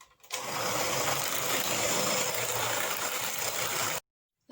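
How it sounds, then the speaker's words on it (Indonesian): An electric mixer beats batter made with warmed coconut milk and soaked vermicelli. A steady, close whirring drone starts abruptly, holds evenly for about four seconds, then cuts off. "Kemudian mixer."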